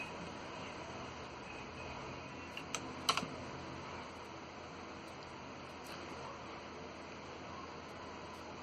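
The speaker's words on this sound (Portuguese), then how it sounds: "Então eu vou digitar aqui paz e segurança, para ver o que vai aparecer." Typing on a computer keyboard to enter a search: faint, scattered key clicks under a steady background hiss, with a couple of slightly sharper taps near the middle.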